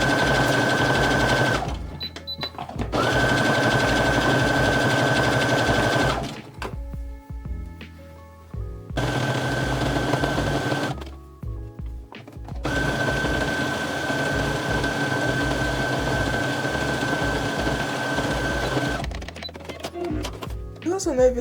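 A sewing machine runs a zigzag stitch along the folded edge of a dress in long, loud, steady runs that stop and start several times, with short pauses between runs and a few clicks at the end.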